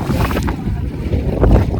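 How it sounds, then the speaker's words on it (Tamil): Gusty wind buffets a round coracle on a dam reservoir near a forest, a rough continuous rush and microphone rumble with faint water movement underneath. "காற்று இப்படியும் அடிக்குது இப்படியும் அடிக்குது"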